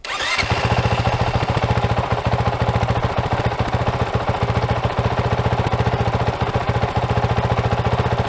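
Honda CRF450L motorcycle fitted with a Yoshimura RS4 exhaust idles close to the microphone, a steady, loud, rapid low thumping pulse that holds evenly throughout with no revving.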